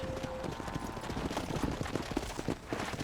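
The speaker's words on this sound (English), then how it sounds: "Hit your horse and wait for me by the stable." Horse hooves clip-clopping in the Red Dead Redemption video game, a steady run of close, fairly loud hoofbeats with busy game ambience underneath.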